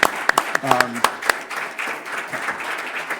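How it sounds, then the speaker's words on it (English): Scattered clapping at a township council meeting, a handful of sharp claps rising out of murmuring voices and room noise, with people talking over it. "They deserve a big round of applause."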